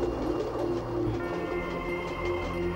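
A passenger train in motion, heard from inside as a steady low rumble with a continuous mechanical drone, constant in loudness and fairly close, with no voices over it.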